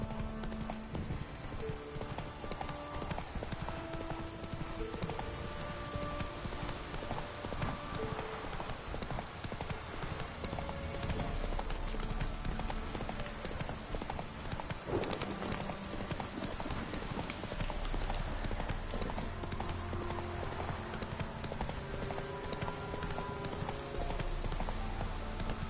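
Hooves of Roach, a horse galloping in the video game Witcher 3, a steady rhythmic clip-clop that runs throughout at moderate level over faint game background sound.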